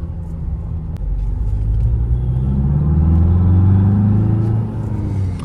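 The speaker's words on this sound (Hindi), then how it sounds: "इसके जो अब इंजन की साउंड है ना, ऐसी आती है कि भाई कोई हम स्पोर्ट्स कार चला रहे हो" Tata Safari facelift engine accelerating, a loud low rumble that swells and rises steadily in pitch over several seconds, close and continuous with no talking.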